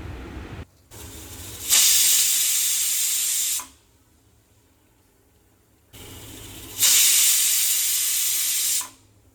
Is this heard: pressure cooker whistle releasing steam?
yes